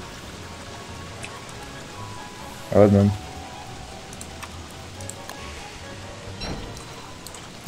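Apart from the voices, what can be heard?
rain falling in Don't Starve Together video game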